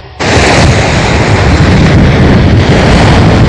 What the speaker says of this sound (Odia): ଆମର ବାତ୍ୟା ଚାଲିଛି